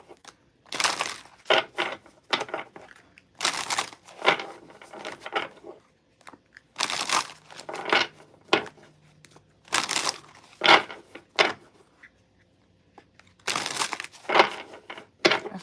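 Bursts of crisp riffling and crackling come in several runs with short pauses between, like a stack of cards being shuffled up close.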